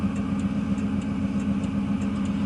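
A car engine with an automatic transmission runs at a steady, moderately raised pitch around 2,000 rpm with a constant low hum, held close and continuous with no talking.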